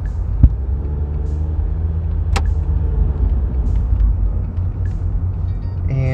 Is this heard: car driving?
yes